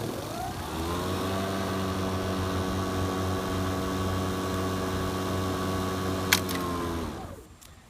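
Steady electric motor hum with a harmonic whine from a Kobalt electric lawn mower, running close and constant for several seconds, then a click as it winds down.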